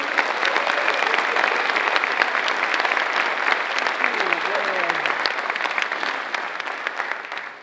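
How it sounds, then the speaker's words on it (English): Sustained applause from a conference audience honoring the organizing committee at a leadership event, dense steady clapping that holds loud throughout and tapers slightly at the end, with faint voices mixed in. "let's give them a round of applause, please"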